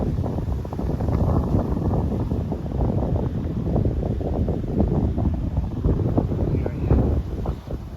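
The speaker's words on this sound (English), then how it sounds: "Wind is with us" Steady wind buffets the microphone while cycling along a canal towpath on the Trent and Mersey Canal, a continuous rumbling roar throughout.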